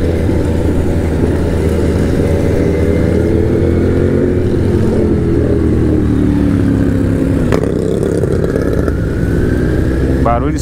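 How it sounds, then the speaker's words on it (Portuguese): An unusual-sounding motorcycle engine drones and revs loudly close by, its pitch sliding up and down amid steady road noise and a few clattery knocks. "Barulho estranho daquela moto."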